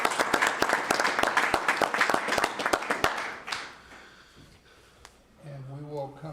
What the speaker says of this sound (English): Can we give everyone a round of applause?